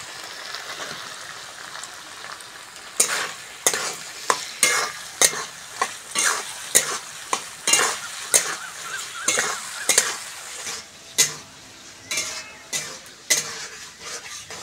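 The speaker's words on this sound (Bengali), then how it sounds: "মশলাগুলো ভালো করে কষে নিয়েছি" Spices with raw tomato and green chili being stirred and fried in a pan for a Bengali pabda fish curry with kohlrabi and potato, a steady sizzle broken by repeated scraping stirs, close and alone.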